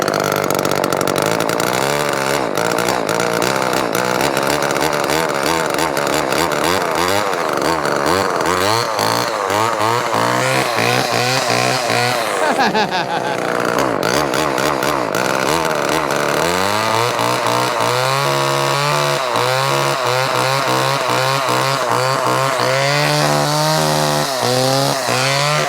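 An old Homelite LX30 Bandit two-stroke chainsaw runs close and loud for about 26 seconds, its engine buzzing and revving up and down in repeated surges while it warms up.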